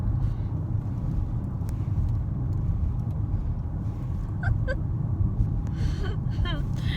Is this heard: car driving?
yes